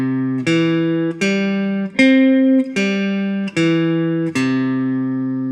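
A guitar strums sustained chords one after another, six ringing strums in a steady sequence, bright and close, each one decaying before the next is struck.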